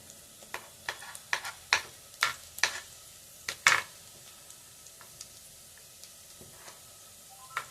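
Onion and garlic-ginger paste frying in a home kitchen pan, heard as a low steady sizzle broken by a series of sharp stirring scrapes and clicks of a utensil against the pan.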